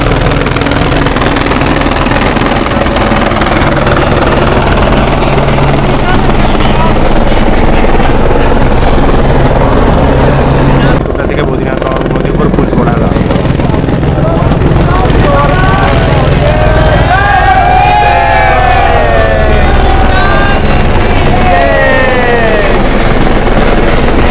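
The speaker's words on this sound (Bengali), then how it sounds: "এখন উপরে হেলিকপ্টার করে আসছে ফুল ফুল বর্ষাবে পুরো উপরে মন্দির" A helicopter showering flowers over the Badrinath temple makes a loud, continuous rotor roar overhead that swells and eases as it passes. A crowd's voices and talk run beneath it.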